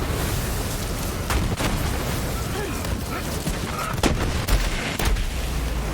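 Explosions and gunfire keep bursting through a hectic Borderlands 3 firefight with a splash-damage Moze build, a loud, dense barrage of blasts and booms with almost no break between them.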